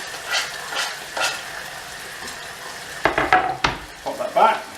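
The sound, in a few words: frying mushrooms, tomato and eggs in a pan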